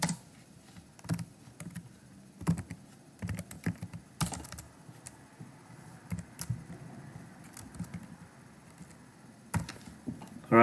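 Keys clatter on a computer keyboard in quick close bursts and scattered single taps, with several louder clacks standing out against a quiet background and no talking.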